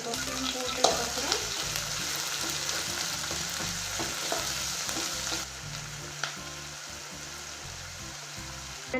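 Curry leaves and chilli fry in hot oil with a dense, continuous sizzle and crackle. Scattered spatters and stirring clatter sound close by, with no talking.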